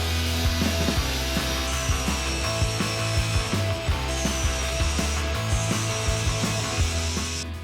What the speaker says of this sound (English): So now the bit I hate the most is grind it all back.